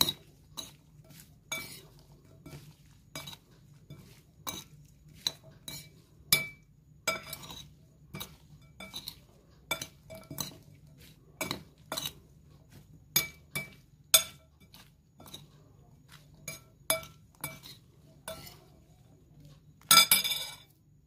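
Chicken is mixed with salt in a bowl, giving a quick, irregular run of close, bright clinks of a utensil against the dish, with brief pauses between bursts and a louder flurry near the end.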